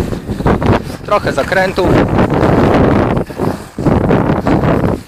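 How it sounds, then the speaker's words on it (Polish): Steady wind rushes and buffets across the microphone on a ski slope throughout, with a person talking briefly over the gusty noise. "bo wieje wiatr"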